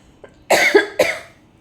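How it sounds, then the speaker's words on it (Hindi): A few sharp coughs from an adult, one faint short cough and then two loud close bursts, with no talking over them. "खांसी आ रही है बीच में"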